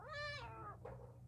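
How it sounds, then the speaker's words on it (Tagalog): A single high, wavering meow comes from a 4-week-old kitten, close and clear over a low steady hum. "nagdedede na ang mga cute na mga kuting"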